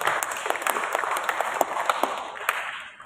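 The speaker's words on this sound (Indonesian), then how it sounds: "Tepuk tangan." An audience claps at a Ministry of Religious Affairs ceremony honouring Semarang, a lively burst of many hands with distinct sharp claps standing out, sustained for about three seconds before thinning and fading at the end.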